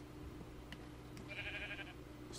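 A brief sheep bleat from a Minecraft modpack game, short and fairly close over a low steady background hum, no talk.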